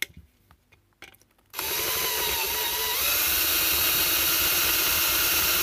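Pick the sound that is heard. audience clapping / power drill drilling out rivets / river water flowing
power drill drilling out rivets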